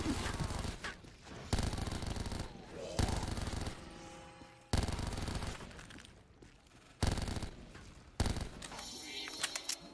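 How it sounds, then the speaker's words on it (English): Rapid submachine gun fire in a first-person shooter game on the CheeseCube V6 map, loud bursts of fast automatic shots with short pauses between strings of fire, close and dominant throughout. "this fucking SMG shoots so fast it aims towards the ground"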